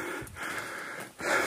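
A wrestling bull breathes heavily during training on a misty, rainy day, giving two broad, harsh breaths, a rasping exhale followed after a short pause by a louder, closer blast of air.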